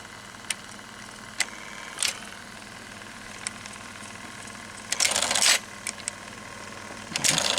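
A restored 1966 Ampex 2100 reel-to-reel tape machine runs on play. A faint steady mechanical hum is broken by sharp clicks and brief bursts of louder whirring, as if from switching and transport noise.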